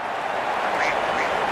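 A duck quack sound effect plays in the Real Cricket 24 video game as a batsman is dismissed without scoring, giving a couple of short, bright quacks over steady crowd noise.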